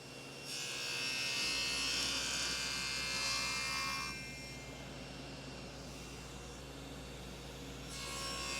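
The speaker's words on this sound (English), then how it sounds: "I've set the fence at 1/2 inch and I'll make one pass" A table saw fitted with an ATB-R blade makes a single dado pass in wood with the fence at half an inch, a loud whining cut for about four seconds over a steady motor hum that keeps running afterward.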